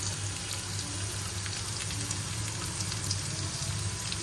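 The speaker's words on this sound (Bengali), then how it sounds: "কষিয়ে নেব।" Ginger paste and cumin powder sizzling steadily in a hot pan, a constant close frying hiss with faint scraping of stirring and no voices.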